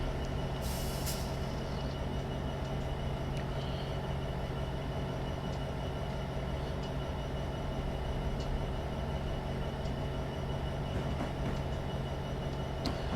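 Long freight train running in the Train Simulator 2015 game, a steady loud rumble with a constant low engine hum and a short high hiss of air near the start, unbroken throughout.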